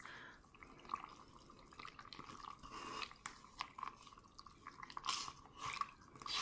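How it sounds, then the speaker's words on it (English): Eco casting powder is stirred into water in a container, giving quiet, irregular wet scraping and clinking taps with small splashy bursts, close up and faint, with no talking. "So I'm just going to give this a really good mix."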